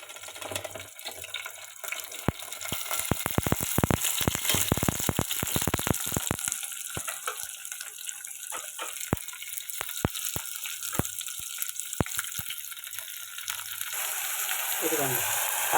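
Ivy gourds, some slightly ripe, sizzle in a pan for an ivy gourd and tomato chutney, a steady hiss with scattered crackles and pops that thin out over time, near and moderately loud.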